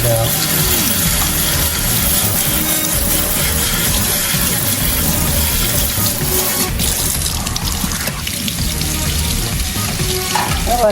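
A forceful spray of tap water rinses a freshly caught crab during cleaning, a loud continuous hiss and splatter at close range that barely changes throughout.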